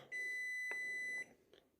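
A 24 V 105 Ah LiFePO4 battery case gives a single sustained electronic beep of about a second as it switches off, close and clear, followed by a couple of faint clicks.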